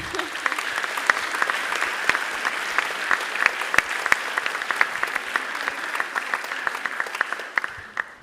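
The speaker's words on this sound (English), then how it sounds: "let's all give a big round of applause to Tytan as he sets out" Applause from a school audience in Florida honoring Tytan Moore's Coast Guard commitment, a steady, dense wash of many hands clapping for about eight seconds before tapering off.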